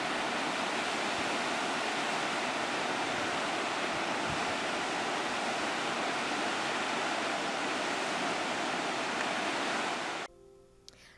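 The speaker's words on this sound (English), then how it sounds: "And there's a waterfall. You can't beat a waterfall." Jemez Falls, a waterfall reached by a campground hiking trail, roars as a steady broadband rush of falling water for about ten seconds before cutting off abruptly near the end.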